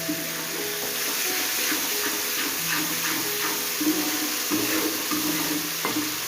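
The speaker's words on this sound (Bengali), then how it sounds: "তো মশলাটা একটু কষানো হোক" Spice paste for a summer fish curry being sautéed in oil that has begun to separate, a soft steady sizzle close by with a few light stirring taps and a faint background hum.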